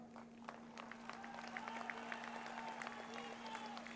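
Audience applause at an outdoor political rally in India, a steady wash of clapping from a large crowd that holds even for the full stretch, with a constant electrical hum underneath.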